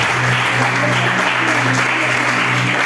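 Steady congregational clapping at a youth church service, many hands at once over sustained musical tones, even in loudness throughout.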